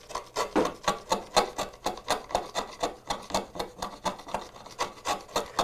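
A chisel stabs repeatedly at the bottom of a wooden dado, giving a close, steady rhythm of short scraping, rasping strokes about three per second, with no talking.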